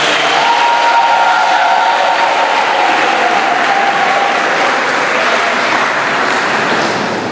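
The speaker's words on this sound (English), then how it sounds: "give them a round of applause" A hall audience at a science olympiad awards ceremony breaks into sustained loud applause, dense and continuous clapping throughout with faint cheering mixed in.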